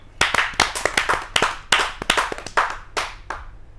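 Audience at a Hindi kavi sammelan claps for a poet, a close burst of separate sharp handclaps in an uneven rhythm of sparse individual claps rather than a dense roar, with no talking.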